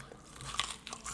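Fries crunch and are chewed close up during a fish and chips mukbang, with several bites and crisp chewing noises over a quiet background.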